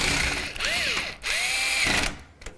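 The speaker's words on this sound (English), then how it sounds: "You'll hear the screwdriver automatically shuts off." A clutch-equipped electric screwdriver driving screws into a PC case, whirring up in three short bursts, each ending with the clutch slipping and the motor cutting off sharply, close and clear with no talk.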